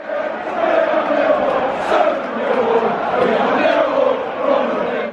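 Large football crowd at a Millwall FC match in cold weather, roaring and chanting in a sustained, swelling wall of voices that stays loud throughout.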